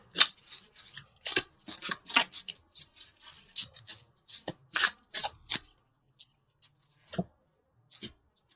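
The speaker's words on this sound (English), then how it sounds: "Okay, so let's pull a couple universal love cards." Universal love oracle cards are shuffled by hand in a string of quick, crisp riffling bursts. The shuffling is close and clear and thins out to a few soft taps at the end. No one talks.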